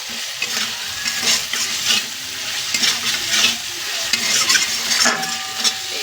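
Garlic and spices fry and sizzle in a pan while being stirred for a Bihari-style egg curry; a loud, continuous close sizzle runs throughout with scraping stir sounds and no voices.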